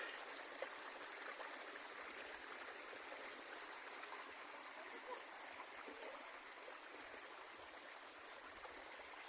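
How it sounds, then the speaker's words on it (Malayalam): Water released from a fish pond rushes and gurgles in a steady, continuous flow, close by and even in level throughout, with no voices over it. "ഈ വെള്ളം നമ്മൾ തുറന്ന് വിട്ടുകൊണ്ടിരിക്കുകയാണ്"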